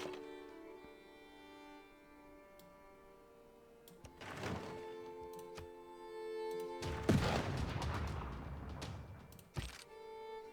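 Field cannon battle in a Civilization strategy game, with a few dull thumps over music, then a heavier burst of impacts and crackling around the middle, ending in a short sharp hit.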